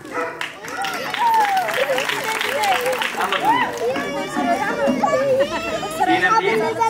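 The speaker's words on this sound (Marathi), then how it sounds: "जोरात टाळ्या झाल्या पाहिजे." An audience applauds at a Ganesh festival game show, a loud, steady wash of clapping mixed with crowd chatter and children's voices for the whole stretch.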